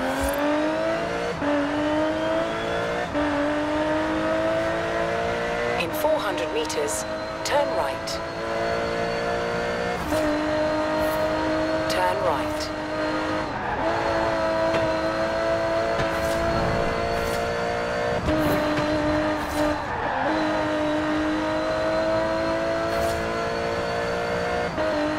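Aston Martin Vulcan engine in a racing video game, heard from the driver's seat view: a steady loud engine drone with layered harmonics, repeated gear-change dips and revving swells, and brief tire squeals throughout.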